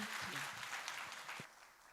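Audience applause at a church mission conference, a steady wash of clapping that holds for most of the clip, with faint voices mixed in beneath it, before thinning out near the end.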